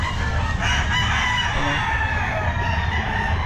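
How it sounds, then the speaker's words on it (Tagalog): Roosters crow and chickens cluck amid a dense, loud crowd of fowl at a pet market, the bird calls overlapping continuously with no clear pause and no talk. "Ito yung mga manok niya"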